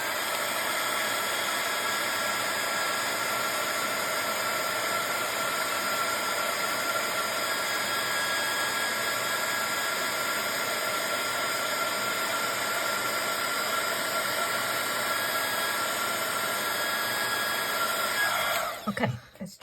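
A heat tool blows a steady, loud hiss while drying ink on a stencilled surface before embossing powder goes on. The whooshing stays unbroken for nearly twenty seconds, then cuts off with a few clunks.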